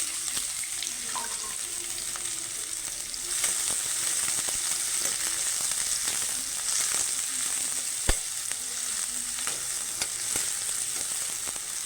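Onions and green chilies frying in hot oil give a continuous close sizzle with occasional spatter and faint stirring clicks, no voices.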